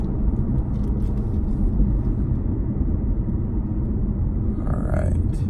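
A 2020 Ford Shelby GT500 cruising on the road, heard from inside as a steady, loud low rumble of engine and road noise that never lets up across the whole stretch.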